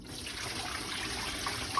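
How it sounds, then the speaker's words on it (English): Water poured out of a soup pot in a kitchen, a steady continuous trickling splash close by with no talking. "Let me pour a little of this water out."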